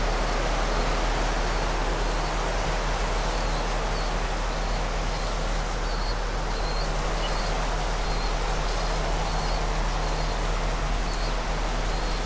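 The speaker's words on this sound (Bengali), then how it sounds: "খুবই ঝড় হচ্ছে, বৃষ্টি হচ্ছে" Heavy storm rain and strong wind lash a balcony where birds and pigeons are kept, making a dense, steady roar that holds without a break for the whole stretch.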